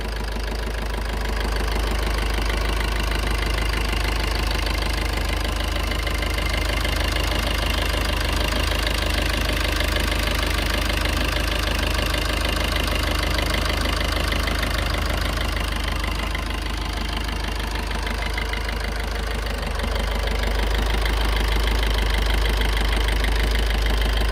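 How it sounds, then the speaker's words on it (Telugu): A Maruti Suzuki Baleno car engine idles steadily up close, a continuous low rumble with a faint knocking texture and no voices. "సో ఇంజిన్ సౌండ్ అయితే చూడండి చాలా మనకి నీట్గా ఉంటుంది"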